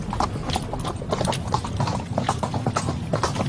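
Horse hooves clip-clop in a quick, steady rhythm throughout, close and fairly loud, with no voices.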